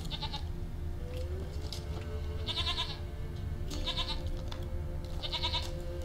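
A goat bleats repeatedly in The Witcher 3, four or so wavering calls spaced about a second apart over a low, steady background hum.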